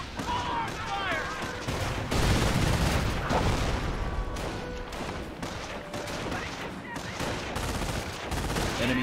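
Sustained gunfire from a World War II battle in Company of Heroes at Omaha, a dense crackle of rifle and machine-gun bursts with occasional heavier booms, fairly loud and continuous, with shouted voices mixed in.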